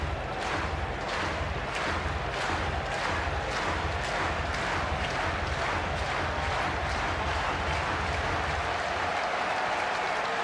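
A stadium crowd at a Blue Jays vs Twins postseason baseball game cheers and claps in a loud, sustained roar with rhythmic pulses of rising chant-like applause.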